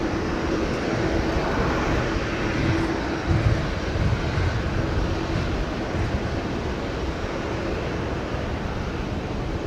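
A jet airliner at Brisbane Airport during pushback gives off a steady, loud broadband engine roar that holds evenly throughout.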